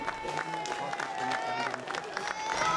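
A rugby crowd at a Border League derby between Gala and Selkirk cheers and claps as teams are cheered out, a busy mid-distance roar of applause and shouting that stays fairly steady throughout.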